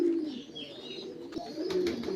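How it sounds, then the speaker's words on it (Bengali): Pigeons kept for breeding coo in soft, low, rolling calls, several birds close by with a few faint rustles and clicks, fairly quiet, no talk. "আর এই যে পায়রাগুলোর ডাক"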